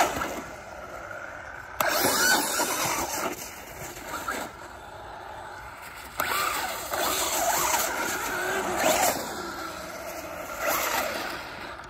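A Traxxas HOSS brushless four-wheel-drive RC truck driving and ripping around outdoors, heard as bursts of whining motor and tire scrubbing that surge and cut off repeatedly, fairly close.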